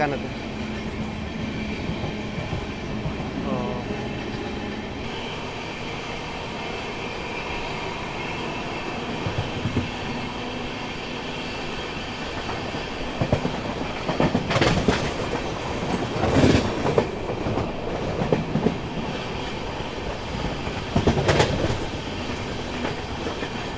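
A train on the Jodhpur–Jaisalmer line through the Thar Desert, hauled by a WAG-9 goods locomotive, rolls along with a steady close rumble and clickety-clack of wheels, with louder bursts of wheel noise and squeal in the middle.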